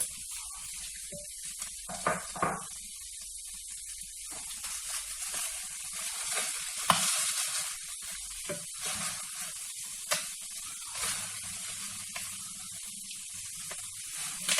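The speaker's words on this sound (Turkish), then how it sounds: "Bunu da bu şekilde 5 dakika kavuralım baharatıyla beraber." Liver sautéing in a pan with salt, black pepper, cumin and chili flakes gives a faint, continuous hiss and sizzle, with scattered soft clicks and scrapes throughout.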